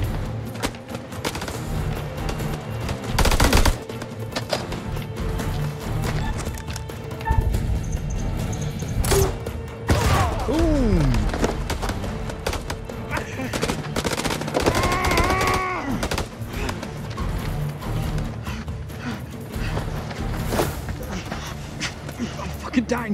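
Gunfire in the video game House of Ashes during an ambush, with sharp shots and bursts scattered across a noisy battle mix, loud and close, under shouted talk and other game sounds.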